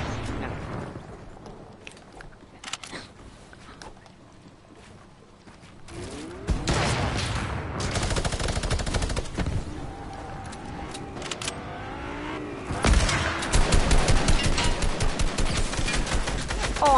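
Gunfire in a Red vs Blue video game, with quiet scattered shots at first, then dense rapid automatic bursts and booms dominating the second half, loud and close.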